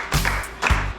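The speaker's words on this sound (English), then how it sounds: "Clap your hands, guys." A group of men on a bachelor trip in Brazil clap their hands at a viewing point, two short bursts of claps mixed with voiced cheering, fairly close and loud.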